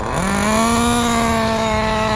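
A Kyosho Inferno NEO 3.0 nitro RC car engine idles steadily up close during break-in, a loud buzzing whine that rises briefly at the start and then holds at a constant pitch.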